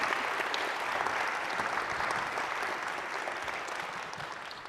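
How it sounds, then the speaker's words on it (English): Applause from an audience for a chamber orchestra after its performance at a climate and arts event, a steady wash of many hands clapping that fades gradually toward the end. "Let's give them another round of applause for their amazing music and their amazing name."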